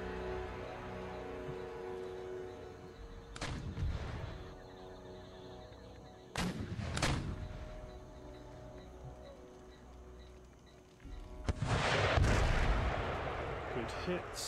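Howitzer artillery in Empire Total War booms in a few heavy, widely spaced blasts over a steady battlefield din, with a dense, louder burst of cannon fire near the end.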